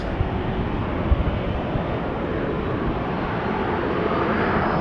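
A Transavia airliner bound for Lanzarote at Amsterdam Schiphol gives off a continuous broad engine roar at moderate distance, steady and unbroken, with some wind buffeting on the microphone.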